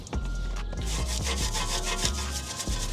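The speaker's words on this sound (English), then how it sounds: "And now I'm going to get my easy wheel brush right here" Wheel brush scrubs a car wheel barrel coated in acid wheel cleaner, a steady close scratchy rubbing with rhythmic back-and-forth strokes and no talking.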